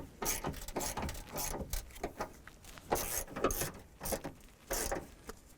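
Nuts being snugged down onto the top of a 2008-2012 Honda Accord rear strut, with a series of close ratcheting clicks and metallic turning bursts in an uneven rhythm.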